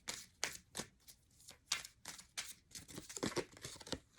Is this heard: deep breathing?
no